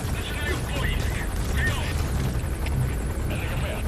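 Helicopter in the video game Metal Gear Solid V, a steady rotor and engine drone throughout, with a voice talking over it.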